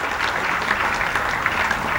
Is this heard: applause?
yes